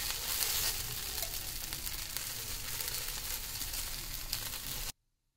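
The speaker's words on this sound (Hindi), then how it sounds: "देखिए, दूसरी तरफ से भी ये बहुत अच्छा सिक गया है। और इसको घी लगा देंगे।" Wheat flour chilla sizzles steadily in ghee on a hot pan, a close, continuous frying hiss that stops abruptly near the end.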